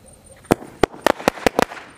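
A 7-shot firecracker fires off outdoors, seven sharp, loud bangs in quick, slightly uneven succession within about a second, each a crisp burst with a short tail, against faint background noise.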